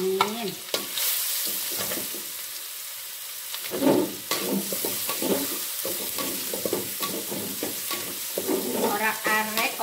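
Bamboo shoots stir-fried in hot oil on a 28-year-old home stove, with steady sizzling and repeated scraping strokes of a spatula throughout, loud and close.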